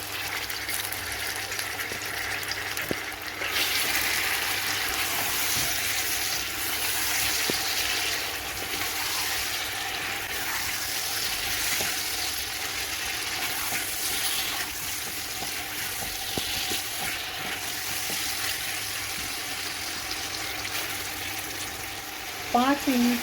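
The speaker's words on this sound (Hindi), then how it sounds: "अब हम इसमें गोश्त डालते हैं।" Meat (gosht) added to softened onions in a pot for palak aloo gosht fries with a steady, hissing sizzle throughout, loud and close, with a few clatters and a brief voice near the end.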